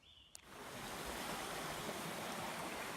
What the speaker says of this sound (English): Give you guys some brook sounds here